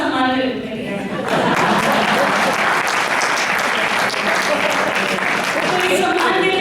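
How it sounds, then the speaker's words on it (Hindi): Dense, steady audience applause fills the hall at a Hindi comic poetry gathering (hasya kavi sammelan), loud and close, continuing unbroken for several seconds. "तो इस सम्मान के लिए भी विशेष तालियां बनती है।"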